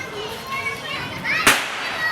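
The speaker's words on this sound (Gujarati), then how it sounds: "સોસાયટીમાં બધા શેરીમાં નાના છોકરાઓ ફટાકડા ફોડે છે" Children play in a street during Diwali with their voices chattering nearby. A single sharp firecracker bang cuts through partway, then the voices carry on.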